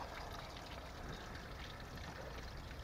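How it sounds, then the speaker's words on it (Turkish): Water draining out of the radiator of a Tofaş Doğan SL after its lower plug is removed, a faint, steady trickling stream running without pause. "aşağıdaki tufayı söküp suyu boşaltıyoruz arkadaşlar"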